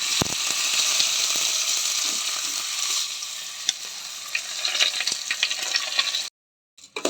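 Rice is stir-fried in a pan with ghee and prawn biryani masala, making a loud continuous sizzle broken by scraping stirs and clatters. It cuts to brief silence near the end.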